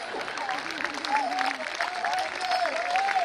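Applause and crowd noise from the audience at a comedy poetry recital, moderately quiet rippling claps with voices and laughter mixed in, steady over a few seconds.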